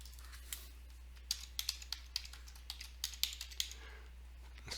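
A computer keyboard is typed on in quick, irregular clicks, heard close and fairly faint over a low steady hum with no talking.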